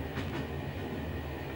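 Train running, heard from inside the passenger carriage: a steady, close rumble with faint rhythmic clatter and no voices.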